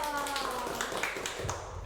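Classroom applause fills a small room, a dense patter of hand claps from students lasting a couple of seconds at steady moderate loudness, with faint voices mixed in.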